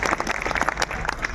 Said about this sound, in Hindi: पूरे मानव योग से एक बार तालियों की ध्वनि से उनका अभिनंदन करिए।